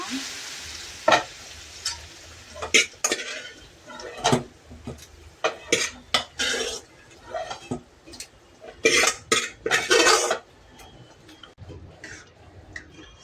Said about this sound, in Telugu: ఇంకా ఆయిల్ వేసేసుకున్నామండి. తాలింపు వేసుకుంటున్నాం కూర